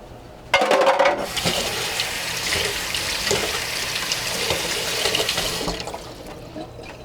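Tap water running over a block of Spam to rinse off grease, a steady splashing rush starting abruptly and continuing close by for several seconds before tapering off.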